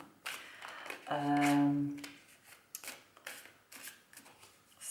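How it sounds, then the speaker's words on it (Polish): Tarot cards from an Illuminati deck are shuffled by hand in a series of papery riffling bursts and soft taps, with a brief tonal hum partway through and no talk. "Jeszcze trochę potasujemy."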